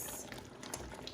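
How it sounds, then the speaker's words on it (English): Blackberry preserves at a rolling boil in a pot make a steady, dense bubbling and popping roar that stays close and fairly loud, with no talk over it. "we have been at a rolling boil for 10 minutes"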